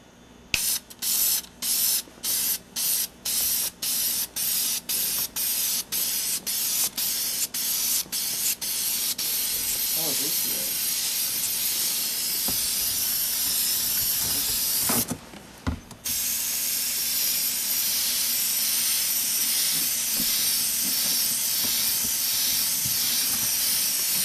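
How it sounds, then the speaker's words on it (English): Red K&N filter oil is sprayed from an aerosol onto a pleated air filter, first in a quick run of short rhythmic bursts, then one long continuous hiss that pauses briefly before resuming, close and loud. "I'm simply going to apply the red oil to the top of every pleat as best as I can, working my way across the air filter"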